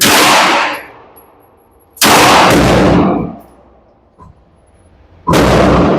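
Kimber 2K11 Eclipse pistol fired at an outdoor range: three loud, sharp gunshots spaced well apart, each with a long ringing decay, and a faint click between them.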